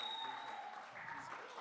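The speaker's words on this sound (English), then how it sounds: "Let's give them a round of applause, guys." An audience at a children's summit in Kenya claps steadily, a dense, even patter with a voice heard over it.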